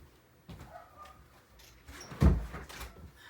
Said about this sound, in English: I think I'm going to run out and close the door